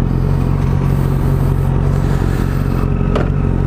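A Yamaha FZ1 Fazer litre-class motorcycle engine idling loudly up close, a deep steady throb with a brief rev near the end.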